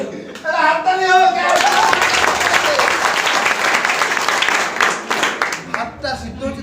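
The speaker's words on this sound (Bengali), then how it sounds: "হাততালি হোক" An audience breaks into applause after a brief voice. Dense clapping rises quickly, holds loud for several seconds, then thins out and fades near the end.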